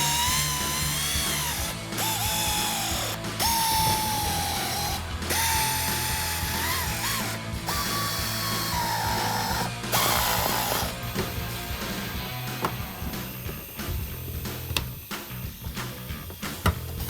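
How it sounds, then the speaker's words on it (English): A ratcheting power tool tightens screws on the lower cover of a 2015-2023 Charger headlight, whirring in steady bursts broken by brief pauses, with clicking mechanical noise running close and loud throughout, no voices. "Now we're going to be tightening our screws and installing our clip."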